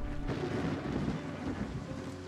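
A thunderstorm in the video game Wartales gives a continuous low rolling rumble of thunder over a steady wash of rain and wind noise, moderately loud and heard alone.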